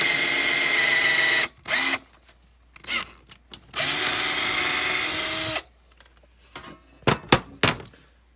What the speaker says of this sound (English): drilled right through it.